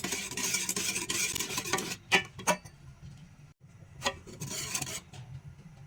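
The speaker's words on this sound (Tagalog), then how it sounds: "Mix-mix nyo lang po siya kasi kailangan lagi nyo siyang mini-mix para walang buo-buong cassava flour." A spoon scrapes and swirls through a thick cassava flour mixture in a pot for homemade ice cream, a steady rasping stir with a few sharper knocks against the sides.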